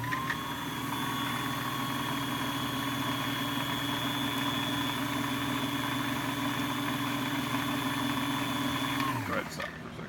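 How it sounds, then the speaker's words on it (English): A sewing machine whirs steadily while winding a bobbin, a constant motor hum with a whining tone that ends abruptly as the machine stops near the close. "Now the whole machine should not run while I run it to wind a bobbin."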